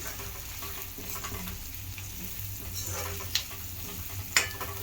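Taro root curry fries in oil with a steady soft sizzle while a utensil stirs it, giving occasional scraping taps and two sharper clinks near the end.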